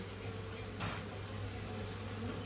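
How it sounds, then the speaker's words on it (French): Calm honeybees on a beehive frame, a faint continuous buzzing hum behind steady background noise, with a short rustle partway through. "Des abeilles calmes qui tiennent bien le cadre."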